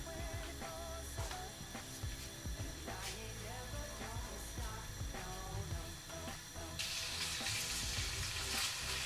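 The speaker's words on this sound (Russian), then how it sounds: "Обжаривается." Minced beef and pork with onion and tomato frying in a pan for a pasta sauce, a steady sizzle with stirring clatter, kitchen noises and water in the background, turning to a bright, louder hiss near the end.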